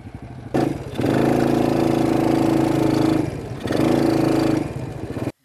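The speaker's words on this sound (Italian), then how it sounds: "Questa non è una mini moto, è una moto piccola, una vera e propria MotoGP piccola." A small MotoGP-style racing motorbike engine at a track revs hard twice, loud and close, with a buzzy high-pitched whine, then cuts off abruptly.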